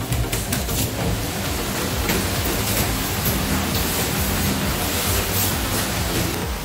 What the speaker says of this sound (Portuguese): Agora nós vamos ligar aquele ventilador para ajudar na secagem do piso.